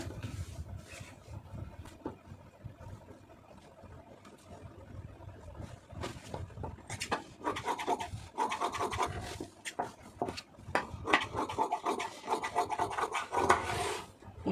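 Scissors cutting blouse lining fabric on a table, with irregular rasping snips and scrapes that grow busier and louder toward the end, close up, with no speech.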